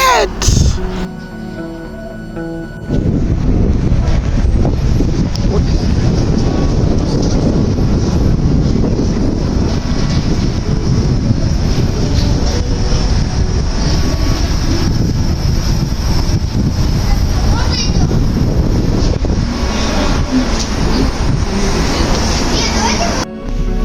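Interior of the Moscow Monorail, a 4.7-kilometre six-station line in the city's northeast, with a steady loud rumbling ride and wind-like rush that runs the whole time after a quieter start, while children's voices chatter in the cabin.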